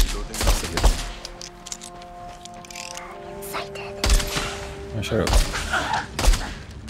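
Bursts of gunfire in the Scavengers video game during a boss battle, several loud rapid volleys with heavy thuds and mechanical clatter, someone talking over the shots.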